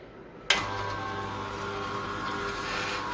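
An oil press machine, model 811, pressing black seed (nigella) oil starts up with a sudden onset, then runs as a steady, close mechanical hum with a whining tone and a constant low drone. No one speaks.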